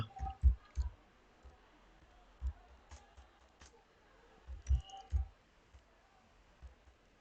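Someone types a shop title on a computer keyboard, producing scattered soft clicks in small uneven clusters, close and quiet, with no speech.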